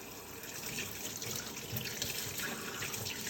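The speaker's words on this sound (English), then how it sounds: "because you're doing it right in the sink, you can always just run in the water and wash your hands" Water runs steadily from a kitchen sink tap while squid is cleaned, a continuous close splashing rush with no pauses and no voices.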